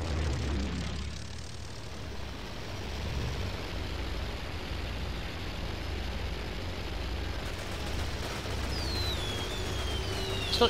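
A propeller plane drones overhead in the war game Toy Soldiers, a broad, steady roar mixed with distant battle rumble that holds throughout, with a faint rising whine near the end.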